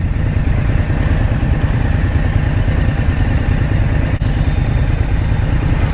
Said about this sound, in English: This thing idles so lumpy compared to the FTR.